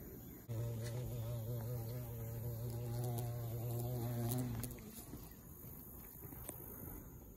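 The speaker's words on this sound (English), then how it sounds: "It was a carpenter bee that just went into that hole." A carpenter bee buzzes close by with a steady, loud droning hum for about four seconds, then breaks off as it flies into a hole in wood, leaving quieter outdoor background.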